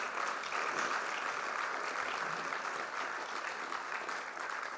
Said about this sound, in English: Round of applause is much needed.